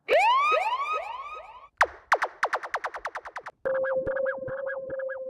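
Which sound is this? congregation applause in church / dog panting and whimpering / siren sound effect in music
siren sound effect in music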